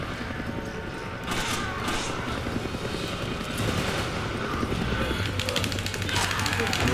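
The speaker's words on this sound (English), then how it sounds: "Good god, this helicopter's death defying." A helicopter in the video game Resident Evil 5 throbs in a continuous, fairly loud rotor drone, mixed with bursts of game gunfire and action noise.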